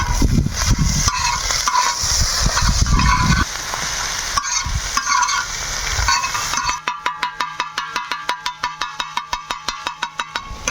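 Eggs with red chili powder sizzle loudly in a frying pan as they are stirred, with scraping strokes for several seconds, before a rhythmic pulsing tone takes over.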